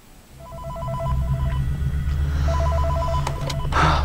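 Telephone ringing inside the video game FNAF Help Wanted, two bursts of rapid trilling bell rings over a low droning game hum, followed by a brief rustle near the end.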